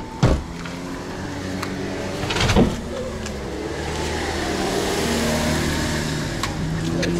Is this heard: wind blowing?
no